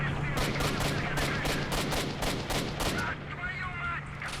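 Rapid gunfire in S.T.A.L.K.E.R.: Shadow of Chernobyl, a loud close burst of about a dozen evenly spaced shots over three seconds, then a quieter tail of distant noise.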